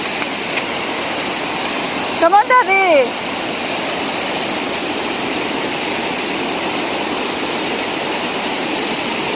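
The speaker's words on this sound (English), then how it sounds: "The waterfalls are really loud," Loud, steady rushing roar of waterfalls heard from a steep hillside trail, a constant broadband wash filling the whole clip, with a brief voice calling out partway through.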